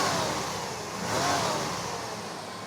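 Pontiac Firebird Trans Am GTA V8, restarted after sitting for thirteen years, revving at moderate distance, the engine note swelling briefly in the middle and then settling, with no talk over it.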